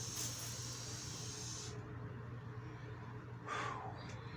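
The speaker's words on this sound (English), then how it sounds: "That's a powerful spray." An Evian facial spray bottle gives a short, hissy burst of mist, close and soft, heard alone against a faint steady hum.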